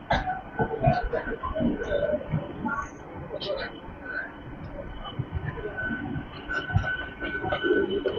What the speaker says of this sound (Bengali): হাওড়া রামপুরহাট শহীদ এক্সপ্রেস ছেড়ে দিল তার গন্তব্য রামপুরহাটের উদ্দেশ্যে